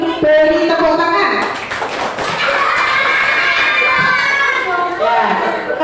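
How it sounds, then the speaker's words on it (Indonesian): A classroom of children claps briefly while kids' voices and an adult's voice continue throughout, so the applause stays partly under busy chatter. "Terima kasih, kita beri tepuk tangan."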